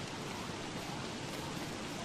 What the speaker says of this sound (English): Boy, this rain is miserable.